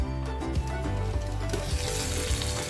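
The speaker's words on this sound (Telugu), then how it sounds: "మూత పెట్టి ఒక 2 నిమిషాల వరకు దీన్ని ఇలా మగ్గించుకోవాలి." Paneer bhurji cooks in a pan on a low flame, giving a soft, continuous sizzle with a few light stirring bumps.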